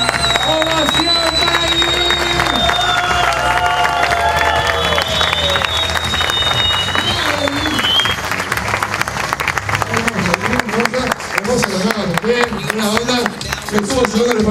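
Audience at a magic show claps and cheers loudly for a long stretch, with a voice talking over the start and the applause continuing as dense, bright clapping.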